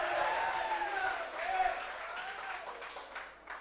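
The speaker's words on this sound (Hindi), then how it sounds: "एक बार तालियों से पूरा सदन मुझे सूचित करे।" At a Hindi poetry gathering in Chandrakanta Sabhagar, Bareilly, an audience claps steadily, with the applause swelling and fading over several seconds while a voice and crowd murmur carry on beneath it.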